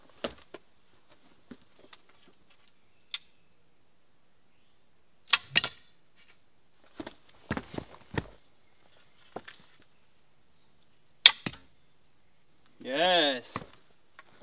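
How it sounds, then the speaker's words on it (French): An arrow is shot from a homemade bow outdoors at dusk, heard as a few sharp, brief snaps and whooshes scattered among quiet gaps, with a short voiced sound near the end. "Bon, bah j'aurais fait un lancer avec mon arc"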